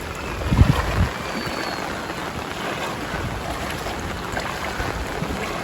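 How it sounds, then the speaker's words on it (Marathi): Heavy monsoon rain pours onto a knee-deep flooded street in Vasai-Virar, making a loud, dense, unbroken hiss with a few thumps near the start and no voices. "बघा इथे पण गुडघ्यावर पाणी आणि पाऊस अजून मुसळधार चालू आहे."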